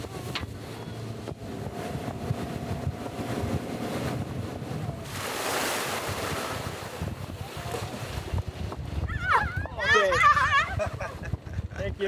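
Wind and waves at sea aboard a boat near Fiji, with constant gusty wind buffeting the microphone, rushing water and surf, and brief voices in the mix.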